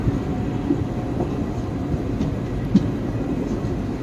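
Steady low rumble of the Salem–Karur–Trichy passenger train running as it enters Karur, heard from inside the carriage with a faint occasional clunk and no voices.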